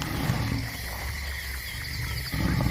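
A male lion roars in the wild, a low, steady rumbling growl that carries through the whole stretch, loud and close, with a brief dip near the end before it swells again.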